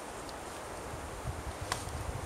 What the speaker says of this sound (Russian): Вот сейчас поднялся ветер.